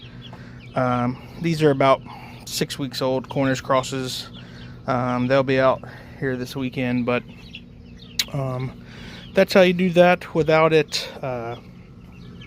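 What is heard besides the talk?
chickens clucking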